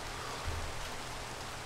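Rain falling at night in the Minecraft video game, a steady even hiss of showering drops with a faint low undertone, continuous and unbroken with no talking.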